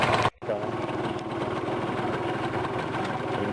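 A Yamaha TZM 150 two-stroke motorcycle engine runs steadily with a buzzy, continuous drone close by, briefly dropping out near the start before resuming at an even level, with a voice faintly mixed in.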